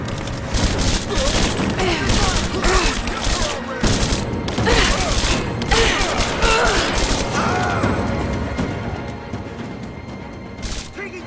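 Dense, continuous gunfire and explosive booms from a Tomb Raider shooter game, rapid overlapping shots and bursts filling the scene at close range without letup, with voices mixed in.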